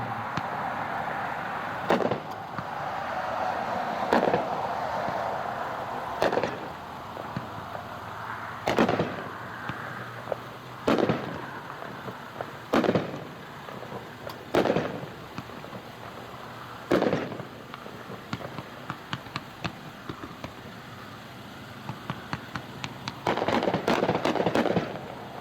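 A Hot Shot Grand Old Flag 28-shot 1-inch firework cake with red, white and blue effects, firing a steady series of sharp outdoor thumps a couple of seconds apart, then a denser rapid crackling finale.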